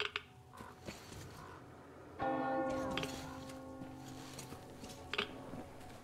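A large church-style bell tolls in the post-apocalyptic Metro Exodus game world, one loud ringing strike at mid-clip whose tone hangs and slowly decays over ambient game noise.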